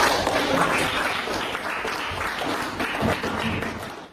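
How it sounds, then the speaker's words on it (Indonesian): Applause from a classroom group closing an Islamic studies lesson fills the whole stretch, a dense, even patter of many hands clapping at moderate distance, steady throughout before tapering slightly at the end. "Tepuk tangan untuk kita semua."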